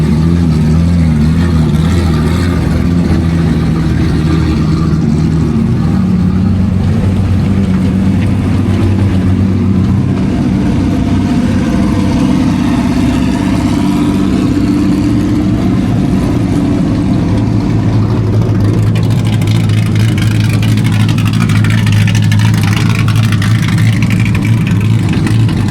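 Loud, sustained rumble of a New Zealand stockcar engine at Woodford Glen speedway, idling heavily with revving swells throughout, close by and unbroken by talk.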